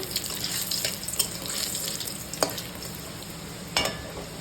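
Garlic cloves with black cumin frying in a pan give a steady, bright hiss with a few sharp spatters and taps standing out. It is fairly close and heard without talk.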